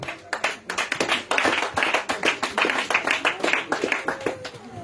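A church congregation at a testimony gathering after deliverance prayers claps in steady rhythmic unison, a dense crisp patter of many hands held for several seconds with a faint voice beneath.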